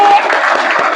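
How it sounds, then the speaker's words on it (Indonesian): A classroom of students claps for a classmate, a dense, steady patter of hands that continues evenly throughout. "Tepuk tangan lagi."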